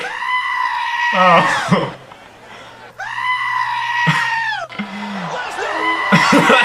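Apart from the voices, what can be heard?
famous human goat scream edited over wrestler's scream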